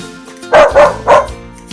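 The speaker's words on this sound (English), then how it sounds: "Dog," A dog barks three times in quick succession, loud and close, over a soft musical background with no other sounds.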